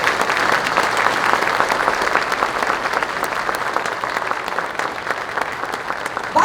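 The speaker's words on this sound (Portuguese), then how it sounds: "quero que vocês puxem uma salva de palmas para essas pessoas aqui" A seated audience at a Bunkyo business gathering applauds continuously, a dense, even clapping that fills the room at steady strength throughout.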